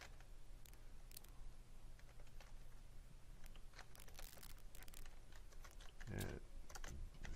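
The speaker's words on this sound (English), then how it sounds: "Can't type today." Rapid typing on a computer keyboard, with a steady stream of clicking keystrokes over a constant background hum and a brief louder thump near the end.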